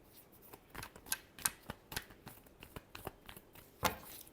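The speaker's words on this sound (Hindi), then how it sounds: "Last shuffle." Tarot cards being shuffled, heard up close and fairly quiet as a quick run of crisp flicking riffles and slaps. No one speaks.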